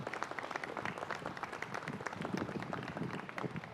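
Faint outdoor audience applause at a family sign unveiling ceremony, honouring a landscaping crew. The clapping is a steady, even patter of many hands heard from a distance, lasting the whole time.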